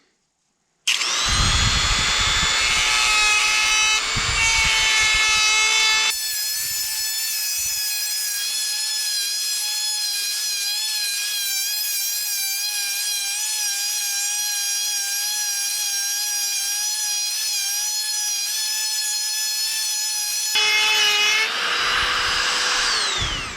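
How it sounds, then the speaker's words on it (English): A power tool grinds away a marked edge on a metal flash pan, a loud, sustained high whine with a brief start-up, a drop in tone under load for most of the run, then spinning back up at the end. "So I'm going to grind that away"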